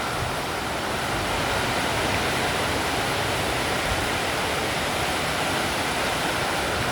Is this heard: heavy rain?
yes